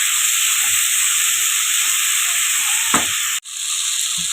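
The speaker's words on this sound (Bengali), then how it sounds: "দেখুন আমি হালকা করে মূলোটাকে একটু নাড়িয়ে চাড়িয়ে মিশিয়ে নিলাম।" Radish sizzles steadily as it is stirred through a spice mix in a hot pan for a bhola fish chorchori, a close, continuous frying hiss with a brief scrape near the end and a momentary break.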